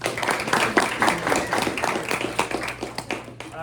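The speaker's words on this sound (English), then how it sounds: "one more round of applause for Jay and our athletes of the week." Scattered clapping from a group, uneven and moderately loud, with some murmuring voices mixed in.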